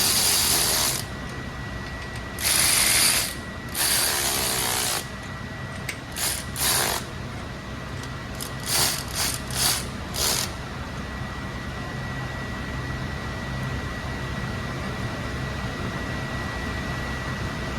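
A hand ratchet clicks in short bursts, running down bolts during Caterpillar C15 camshaft and rocker arm installation, a few longer runs early, then quick repeated strokes, close by over a steady background hum.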